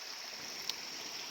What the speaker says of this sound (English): Just another creek crossing.